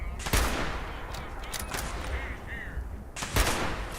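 Enemy gunfire crackles in Fallout 76, with a few sharp loud shots near the start and end and lighter scattered fire between them over a steady game background.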